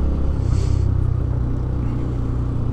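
Steady engine rumble from a Benelli BN125 motorcycle while riding through town, a loud, even low drone with mild road and wind noise and no voices.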